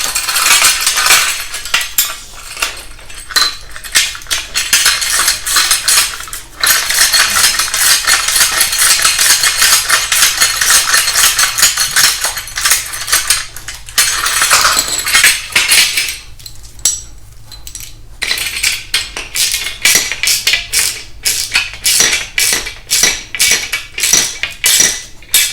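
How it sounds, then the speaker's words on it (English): Ratchet tightening nuts on an Adrian Steel ladder rack for a Nissan NV200 van, a loud, sustained run of fast metallic clicking with brief pauses and quicker strokes toward the end, no talking. "my other ratchet, I'm going to tighten the nut down"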